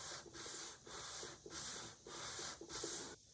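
A plywood surface is sanded flat by hand with steady back-and-forth strokes, five or six rhythmic rasping passes close up, with no talking.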